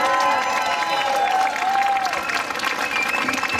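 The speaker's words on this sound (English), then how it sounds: "Thank you for that warm smattering of applause" Applause from a live audience greeting radio hosts on stage, a steady dense patter of clapping hands with some crowd noise, loud and close, continuing throughout.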